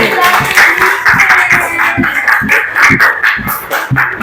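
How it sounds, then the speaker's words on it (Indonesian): Students clapping in a classroom for a group that has just presented, quick uneven claps mixed with voices and chatter, close and fairly loud. "Tepuk tangan untuk kelompok jagung"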